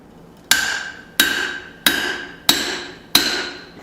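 Five sharp, evenly spaced hammer blows ring out close by on flat bar as a punched hole is expanded, each strike followed by a short metallic decay.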